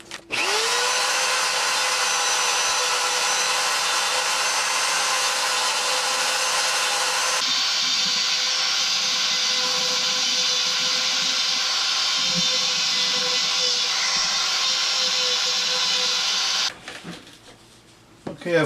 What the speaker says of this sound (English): I've carved away a lot of the material on the inside with the ball spear that I had here, or ball burr I should say